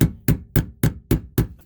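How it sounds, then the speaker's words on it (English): A hammer strikes the retaining ring on a BMW E39 525i fuel pump, six evenly spaced sharp metallic blows, close and loud with a dull ringing tail, in cold weather. "Just hammer that ring off so you can get the fuel pump."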